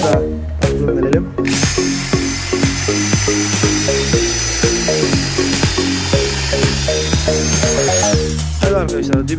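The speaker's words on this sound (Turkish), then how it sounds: "Şimdi arkadaşlar delip geçiyorum." A corded electric drill with a 6 mm metal bit bores through a metal profile, giving a loud, steady high-pitched whine with repeated short bursts and pauses as the bit bites and breaks through.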